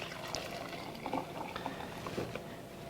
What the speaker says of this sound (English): So we're going to pour it into our container